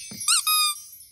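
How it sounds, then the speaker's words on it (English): A squeaky dog toy in a cartoon gives two quick, bright squeaks in close succession after a soft thump, heard alone and up close. "A squeaky toy."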